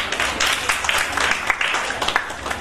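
At a birthday party, children and guests clap together in a dense, continuous patter of applause that runs the whole time at moderate loudness.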